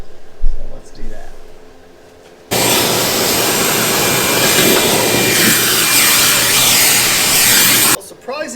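A vacuum cleaner roars steadily for about five seconds inside an old 1969 Lincoln Idealarc 250 welder, clearing out a mouse nest around the fan, with handling knocks before it starts and after it cuts off.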